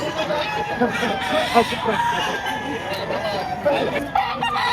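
At a crowded poultry market in Lipa, Batangas, roosters crow and hens cluck continuously from several directions, layered under steady chatter of buyers and sellers.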